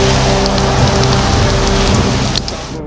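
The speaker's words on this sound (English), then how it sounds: "Rain coming down in buckets in Baltimore." Heavy rain pours down in Baltimore during a storm, a dense, loud, continuous hiss of drops hammering surfaces, easing slightly in the last half second.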